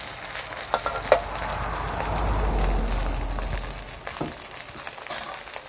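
Cabbage and egg stir-frying in a pan, a continuous close sizzle broken by scattered scraping and tapping from the spatula, with a low swell of heavier frying in the middle.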